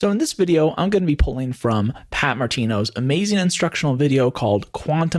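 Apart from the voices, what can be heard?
No distinct noise like a dog, phone or traffic.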